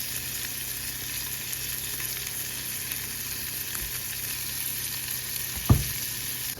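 Banana pancakes frying in a pan, giving a continuous, even hiss of sizzling oil with one brief low thump near the end.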